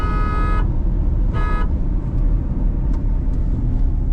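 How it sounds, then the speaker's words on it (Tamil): Two short, light car horn honks at a road crossing over a steady engine rumble, loud and close, with faint higher beeps later. "ரோடு கிராசிங்கிற இடத்துல ஹார்ன் அடிச்சுக்கணும் லைட்டாக."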